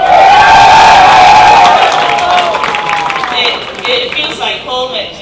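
A loud crowd cheers and shouts at a squash final in the 2008 Qatar Classic, the roar swelling at first and then slowly thinning over about five seconds.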